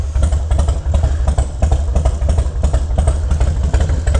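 A repaired Harley-Davidson FXR motorcycle idles steadily up close, its low engine rumble loud and continuous with a light mechanical clatter and no talking.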